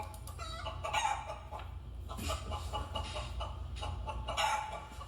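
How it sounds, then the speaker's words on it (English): Several chickens clucking and squawking nearby, with a rooster's crow mixed in over a low steady background hum. "That's the sound of chickens in the background."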